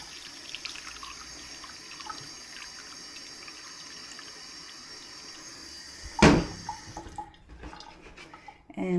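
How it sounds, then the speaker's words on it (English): Water runs from a tap into a Pyrex glass measuring cup in a home kitchen, a steady trickle with one sharp splash partway through, followed by quieter handling sounds. "So in my Pyrex glass, I'm going to fill up 1 cup of water."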